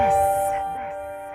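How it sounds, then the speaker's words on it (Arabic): A short bell jingle identifying the Scoop FM radio station, a bright ding-dong chime with sustained ringing tones that decays over about a second, with faint music underneath. "جرس سكوب FM"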